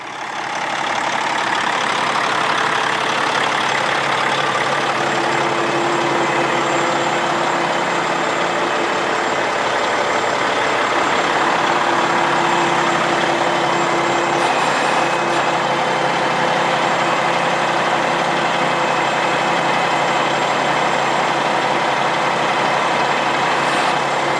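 A 2020 Peterbilt 567 semi truck's large diesel engine idles steadily and loudly throughout, a constant low rumble with a faint whine running beneath it.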